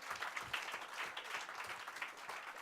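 A speech audience applauds with a brief, faint and distant patter of clapping that stays fairly even throughout.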